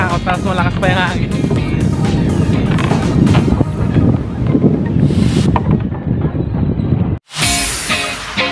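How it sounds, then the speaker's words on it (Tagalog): Strong wind roars across a hanging bridge near a beach in Sablayan, loud buffeting gusts on the microphone under a person talking, cutting out briefly near the end. "Nakakatakot, tapos malakas pa yung hangin."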